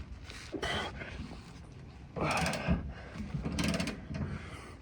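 A ratchet wrench loosening tow hitch bolts on a Mitsubishi Triton, with bursts of rapid mechanical clicking close by, separated by pauses and heavy breathing.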